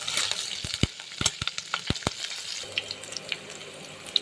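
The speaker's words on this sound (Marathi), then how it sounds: "काप केलेला लसूण आणि मिरच्या घालायच्या आणि व्यवस्थित परतून घ्यायचं आहे." Sliced garlic and green chillies sauté in oil after cumin for a dry onion dish, giving a light sizzle with several sharp spoon clacks and scrapes against the pan that fade into a quieter hiss.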